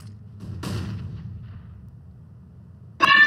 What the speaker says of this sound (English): Flashbang. That was me.